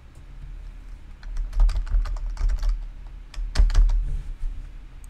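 Clicky typing on a computer keyboard, close and clear, with two quick runs of keystrokes separated by a brief pause and no voices over it.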